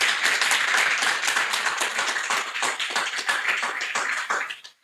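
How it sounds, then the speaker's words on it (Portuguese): Applause from a live audience at a literary soirée in a historic city centre, a steady wash of clapping lasting nearly five seconds before stopping abruptly. "E eu queria, então, pedir uma salva de palmas para o Rafa"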